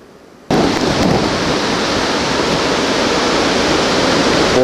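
Hurricane-force wind roars nonstop over a lake during Hurricane Ike in 2008, with waves of two to three feet crashing against a dock. The roar is loud and close, a dense, unbroken wash of noise after a short quiet start.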